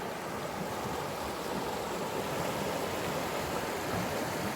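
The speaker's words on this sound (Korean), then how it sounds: "물소리 제가 잡아드리고 있습니다" A mountain stream flowing among rocks outdoors, a continuous broadband rush of water heard close and steady with no voices over it.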